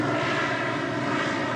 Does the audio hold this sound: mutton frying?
no